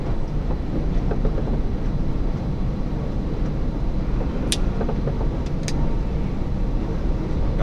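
A DHL truck drives on the road, heard from inside as a loud, steady, low engine and rolling-tyre rumble with a couple of faint squeaks.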